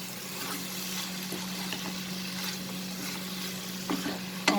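Bitter gourd and shrimp with spices sautéed in a pan just after the lid comes off, a steady soft sizzle with a few light scraping stirs, faint and continuous with no voices.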